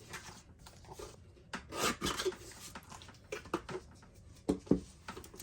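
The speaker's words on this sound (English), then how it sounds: "I'm going to trim this mat down." Scissors or a blade trim a paper mat for a sketchbook page, making soft, irregular rubbing and snipping sounds in close, quiet bursts with pauses between the cuts.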